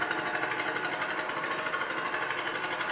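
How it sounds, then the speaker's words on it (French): A radial engine idles steadily, a rumbling idle with a rough, pulsing low-frequency throb, continuous and fairly close, with no voices. "le son avec le joli ralenti de ce moteur étoile"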